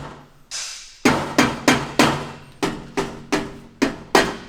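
A hammer taps on a BMW E46 M3 to check for rattles, about nine sharp, close metallic knocks in an uneven rhythm, each ringing briefly before fading, with no talking.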